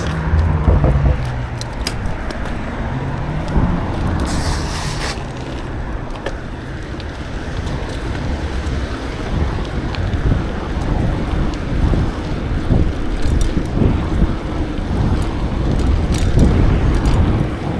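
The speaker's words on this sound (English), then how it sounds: "Lots of traffic tonight." Steady road traffic at night heard from inside a moving vehicle, a continuous low rumble with wind buffeting and occasional louder swells of passing cars, no talking.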